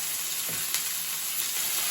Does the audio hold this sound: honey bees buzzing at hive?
no